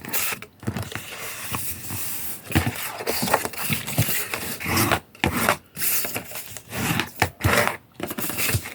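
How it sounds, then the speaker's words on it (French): Paper for a small scrapbooking box is scored and creased into folds, giving close, continuous scraping and rubbing with irregular swishes and brief pauses. "Je fais tous mes plis."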